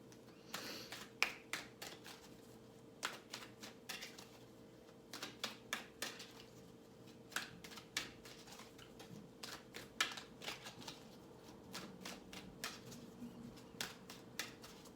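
Repeated crisp riffling clicks of cards being shuffled, coming in short bursts with pauses between, close and fairly quiet over a low hum.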